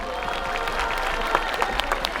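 A large outdoor festival audience claps through a closing concert moment, a moderate steady patter of hands with a few sharper claps standing out near the end.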